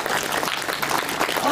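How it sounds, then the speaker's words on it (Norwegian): Concert audience applauding the pianist at a choral performance, a dense, close burst of clapping that fills the whole short moment. "kan hun få en liten applaus?"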